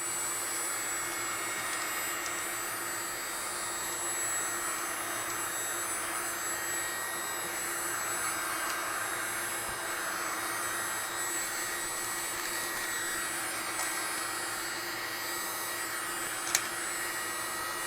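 A Prulde mini heat gun runs on its high setting with the concentrated heat cone removed, shrinking film onto a tumbler: a steady, close, unbroken airy whir with a faint motor hum throughout.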